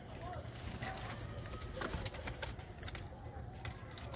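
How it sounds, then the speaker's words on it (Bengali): A male black-eyed pigeon coos softly in a low, repeated rumble, faint and close, with scattered sharp clicks and a person talking in the background. "পায়রাটাকে ছেড়ে শখ করে দেখাই, ডাকবে।"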